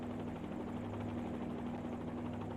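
A helicopter's rotor and engine drone steadily in a flight simulator game during a slow approach to a confined landing pad, a constant close, dense hum with no breaks and no talk.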